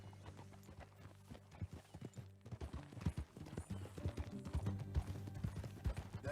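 Horse hooves clatter in a quick galloping rhythm in the video game Red Dead Redemption 2, steady and fairly close, with music underneath.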